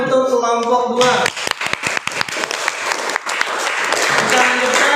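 Classroom applause for a presenting group of students, a burst of many hands clapping after a brief spoken line, dense and fairly close, continuing steadily to the end.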